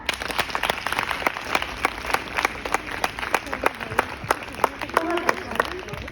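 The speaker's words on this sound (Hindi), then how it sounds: "जोरदार तालियां।" An audience gives loud applause, many hands clapping in a steady crackling roll with sharp individual claps standing out, while voices and cheering rise through it near the end.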